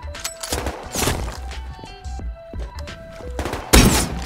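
Melee hits on a player in the video game Rust, a handful of dull thunks spaced irregularly over game tones, ending in a loud crunching impact.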